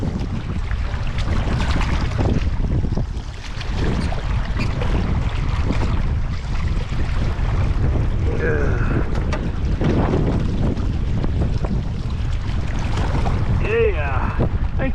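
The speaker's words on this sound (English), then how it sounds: "Oh my goodness, that wind." Strong, steady wind roars and buffets across the microphone on a river fishing boat during a fall cold front in Minnesota, constant and loud throughout with faint background voices.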